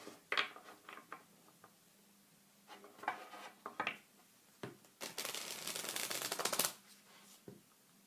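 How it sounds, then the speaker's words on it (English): Tarot cards are shuffled by hand near the microphone: scattered taps and flicks, then a sustained riffling burst lasting about two seconds, with no one speaking. "I don't know why I shuffled the cards the way that I did"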